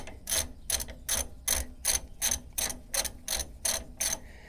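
A ratchet clicks in quick, even strokes, about eleven in a row, as it unscrews a badly rusted U-bolt nut on a truck suspension. The sound is close and crisp with no talking.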